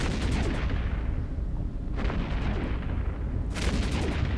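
Heavy barrage weapons firing in the EVE Echoes space combat game, three booming bursts spaced over a few seconds above a steady low rumble.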